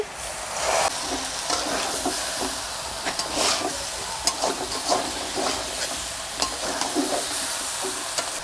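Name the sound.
prawns and jackfruit sizzling while stirred in a pan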